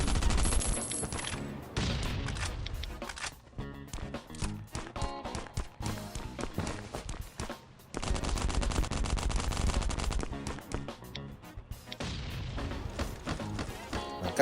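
Loud, rapid gunfire in the survival video game Last Island of Survival, with automatic bursts and single shots across the clip, broken by short gaps and occasional footsteps.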